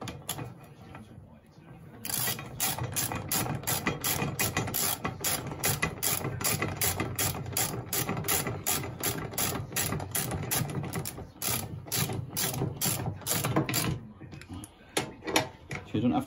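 A ratchet with an M10 spline socket clicks rapidly and repeatedly as it tightens seat bracket bolts on a VW T5 Transporter van, close and crisp, in quick bursts with short pauses between.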